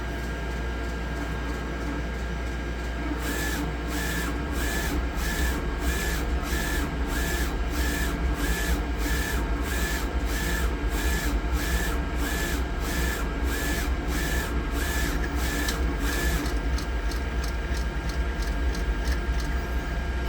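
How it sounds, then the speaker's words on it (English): A Roland VS-540i printer cutter runs a crop-mark test print. Its carriage makes a steady run of rhythmic back-and-forth pulses over a constant mechanical hum, with roughly a dozen even passes and no voices. "So to print a crop mark, scan it with the sensor and it'll cut it."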